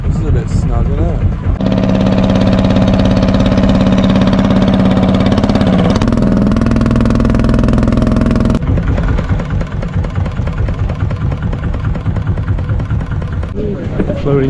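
A loud long-tail boat engine drones steadily throughout, shifting pitch partway through, with people talking over the constant motor noise, on Koh Samui, Thailand.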